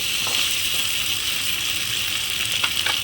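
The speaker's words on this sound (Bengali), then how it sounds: "ভালো করে নাড়াচাড়া করে কষিয়ে নেব।" Goat head meat sizzling steadily as it is sautéed and stirred in a hot pan, a loud, continuous frying hiss up close with occasional faint scraping from the stirring.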